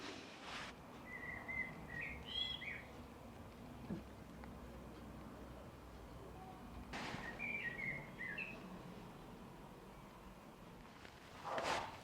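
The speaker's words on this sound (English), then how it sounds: "There's a very beautiful bird singing." A songbird sings in a Welsh garden in the evening air, with short whistled phrases around two and eight seconds, moderately distant over a low outdoor hum and faint rustling.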